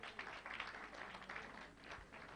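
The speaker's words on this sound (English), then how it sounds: "Please give him a round of applause, please." Sustained crowd applause for a guest being welcomed at an awards grand finale in Lagos, a dense, steady wash of clapping that fills the room from start to finish without any talk over it.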